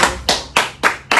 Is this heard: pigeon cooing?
no